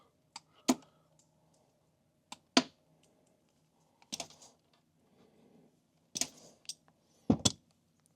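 Cutters snip through wires while wiring a DIY override switch for AMP Research power steps: about six sharp, isolated snaps spaced a second or two apart, close and crisp, with quiet in between.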